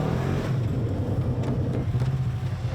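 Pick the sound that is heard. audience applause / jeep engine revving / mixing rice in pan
jeep engine revving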